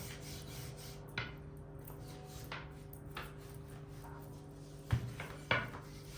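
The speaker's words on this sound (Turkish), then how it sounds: "Hamurumuzu güzelce açalım" Pastry dough for börek being rolled out on a board, soft rubbing and rasping strokes with a few light knocks of the rolling pin, faint and close, with no talk.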